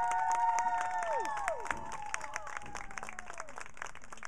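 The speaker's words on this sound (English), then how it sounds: "We could give a round of applause for our seniors" A crowd at a high school football senior night gives applause and cheers for the seniors, a continuous wash of clapping with whistles and shouts carrying over it outdoors.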